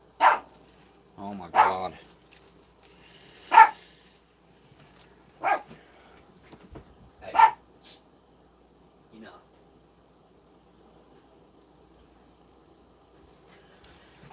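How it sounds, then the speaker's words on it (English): A dog barks at home in several sharp separate bursts spaced a second or two apart, fairly close, with a person murmuring a few words between them. "If I put him up on the couch, he barks at me, no matter what."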